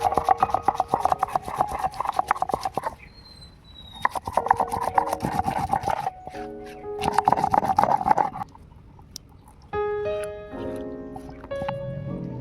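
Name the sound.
onion being ground into paste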